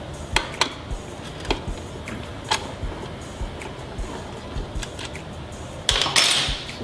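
Metal clanks and clicks from wrenching bolts and a clamp off a Leo Vince motorcycle exhaust silencer, a series of sharp, close taps spread over several seconds, ending in a louder scraping rattle.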